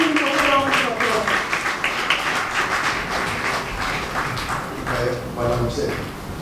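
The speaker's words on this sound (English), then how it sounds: "Please let's welcome him with a round of applause." A room full of people claps in welcome at an organisational anniversary symposium, steady applause running the whole stretch with a voice speaking over it.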